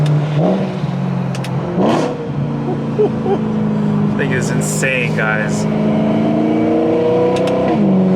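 A BMW E9X M3's naturally aspirated V8 revs high and steady toward 8,400 RPM, its pitch climbing through the gears, while someone speaks excitedly over the loud drone.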